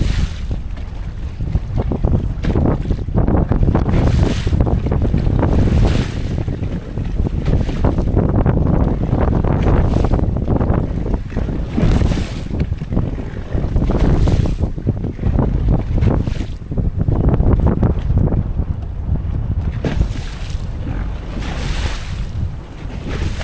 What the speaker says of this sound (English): we had waves coming over the bow.